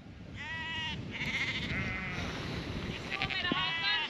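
Sheep and lambs bleat repeatedly on a New Zealand farm during spring mustering, several overlapping calls close by over steady outdoor background noise, with voices nearby.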